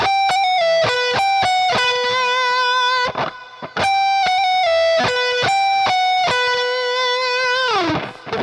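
A fast, heavily distorted electric guitar lick from a solo: quick runs of notes, a few sustained bends, and a slide down at the end, played alone and loud.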